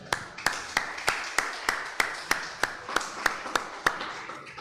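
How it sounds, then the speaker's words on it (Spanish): A church congregation claps in a steady rhythmic beat, about a dozen evenly spaced claps in unison at a moderate distance. "Denle un aplauso a Dios por eso."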